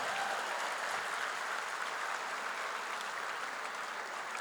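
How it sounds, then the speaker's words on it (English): Steady applause for a fire chief and an interim police chief at an Armenian Genocide commemoration, a dense, even wash of clapping from a crowd that holds at a constant level throughout. "Give them a big round of applause."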